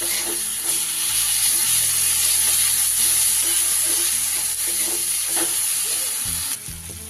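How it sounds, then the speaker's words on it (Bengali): Ginger, garlic and green chili paste sizzles loudly in a frying pan while cooking a fish curry, a steady, dense hiss that holds for the whole stretch with small crackles throughout. "1 টেবিল চামচ আদা রসুন আর কাঁচা লঙ্কা পেস্ট করা আছে, সেই পেস্টটা দিয়ে দিলাম।"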